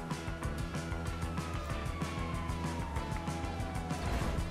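Police car sirens in the video game GTA V, with two police cruisers in pursuit. A steady wailing siren sweeps over a busy music-like background, loud and continuous throughout.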